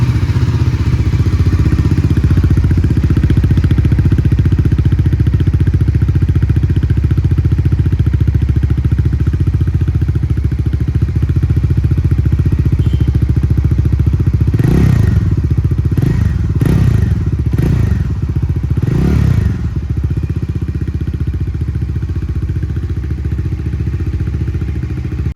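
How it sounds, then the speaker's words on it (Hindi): A Bajaj Dominar 400 E20 OBD-2 motorcycle idles with a deep, steady exhaust rumble throughout, loud and close, with a few throttle blips near the middle. "तो चलिए हम इसका एग्जॉस्ट साउंड आपको सुना देते हैं।"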